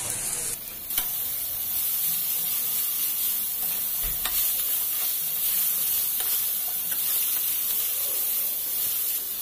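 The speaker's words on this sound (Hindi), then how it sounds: "हम ऐड ऑन करेंगे बारीक कटी हुई प्याज और अच्छे से इसे फ्राई करना है साथ में" Finely chopped onion with vegetables for spring rolls fries in a pan, a loud, continuous close-up sizzle with a few stirring knocks and scrapes throughout.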